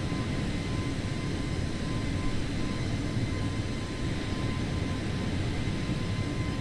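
Steady, broad engine roar of an A320 airliner in the video game Microsoft Flight Simulator 2020, holding at an even, moderate level with a faint tonal whine running through it.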